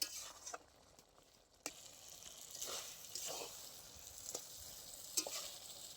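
Rohu fish curry with spice paste and water simmers and sizzles in a pan, a faint, steady bubbling broken by occasional stirring clinks and scrapes.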